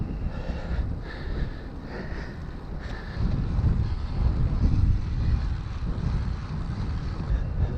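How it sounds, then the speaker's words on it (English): Wind buffets the microphone on a blustery bike ride through the hills of the Lincolnshire Wolds, a steady loud roar that swells and gusts throughout, with no talking. "the wind is always up"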